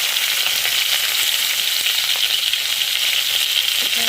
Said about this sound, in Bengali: এর মধ্যে আর একটু তেল দিয়ে দিই, দিয়ে আর ঢেঁড়সটা ভেজে নিই